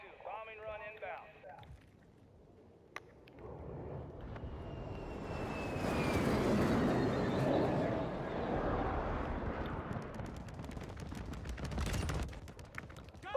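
A stealth bomber makes its bombing run in Call of Duty: Modern Warfare II. A swelling jet roar builds and sweeps past, then gives way to rattling bursts of blasts and gunfire, with a brief voice at the start.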